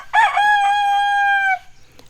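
A rooster crows once, loud and close, a single drawn-out call lasting over a second, then quiet.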